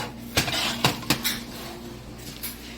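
Banana pudding worked with a spatula in a pan, giving several sharp metallic scrapes and clinks spaced apart at close range over a low background hum.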